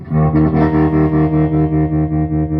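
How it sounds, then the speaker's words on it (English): Electric guitar chords through a green Tube Screamer-type overdrive pedal ring out loud and saturated, with a steady rhythmic strumming pulse and a warm, compressed distortion throughout. "So this is more like the green pedal, what everybody knows, the tube screamer type sound."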